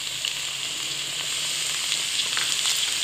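Vegetables and tomatoes frying in a pan, a bright steady hiss and crackle of sizzling oil, close and fairly loud, unbroken over a few seconds with no talking.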